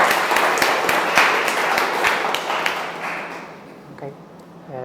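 Audience at a tech talk on microservices and automation claps steadily for a few seconds, then the applause thins out as a voice begins speaking.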